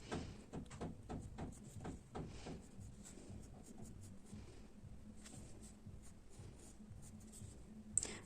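Colored pencils scratch and rub across paper in quick repeated strokes while shading a pumpkin drawing, close and quiet, with no talking.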